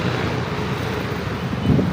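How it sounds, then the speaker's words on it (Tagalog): Strong wind buffets the microphone in a steady, roaring rush, with low rumbling gusts that swell slightly toward the end. No one speaks. "lakas ng hangin dito"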